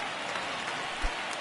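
Rain in a baseball video game on PS4 falls as a dense, even hiss that fills the scene, with a faint low thump partway through.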